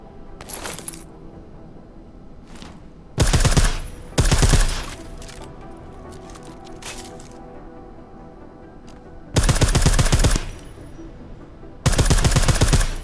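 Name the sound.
silenced gunfire in video game Deus Ex: Mankind Divided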